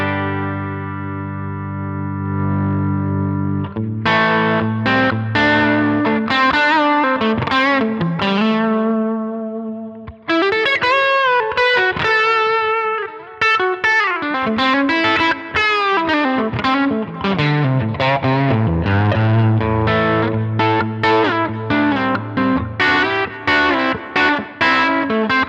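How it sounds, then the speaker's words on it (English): A Line 6 Helix modeled guitar amp with the gain turned up rings out in sustained distorted electric guitar chords and melodic bends, thick and saturated, playing continuously with no talk. "as I bring that gain control up, you will hear it start to hit the front of the amp and bring its own characteristics in"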